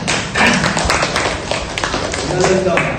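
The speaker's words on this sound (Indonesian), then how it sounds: "beri aplaus buat temannya" Students applaud a classmate in an Indonesian classroom: a brief burst of uneven clapping and thumping tapped out by a small group, close and loud, with some voices underneath.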